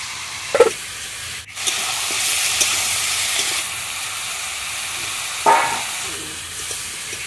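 Chicken pieces fry in a pan with raw garlic and chilli paste, giving a steady close sizzle and hiss broken by a few scraping stirs of a spoon.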